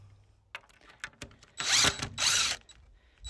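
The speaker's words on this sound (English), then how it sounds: "Sorry for the drill sound." Two loud bursts of a power drill whirring up close while building a beehive structure, separated by a brief pause, with scattered clicks and knocks of handling around them.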